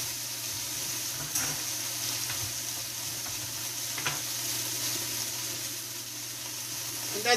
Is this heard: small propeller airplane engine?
no